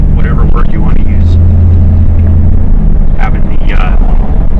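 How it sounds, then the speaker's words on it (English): A Ford Crown Victoria's exhaust through worn glass pack mufflers, heard from inside the car as a loud, steady low drone, while someone talks over it throughout. "About the exhaust inside the car, or the note,"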